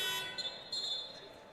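A shot clock buzzer sounds at a women's college basketball game, a short harsh electronic tone that cuts off and briefly returns amid gym ambience, with a commentator's voice faint underneath.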